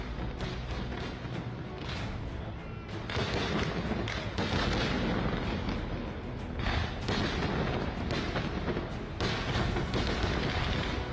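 Fireworks burst overhead during a Diwali lamp festival celebration, a dense, continuous barrage of loud booms and crackles rolling on without pause, with no voices heard.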